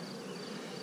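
Italian honey bees at an open hive, a dense, continuous buzzing drone close to the ear, steady and unbroken.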